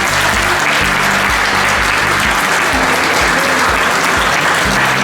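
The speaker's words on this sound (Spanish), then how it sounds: "pido que con un fuerte aplauso le demos la bienvenida" Loud, dense applause from a large audience welcoming a singer at a book fair event, a sustained roar of clapping close and full throughout, with a low rhythmic musical pulse underneath.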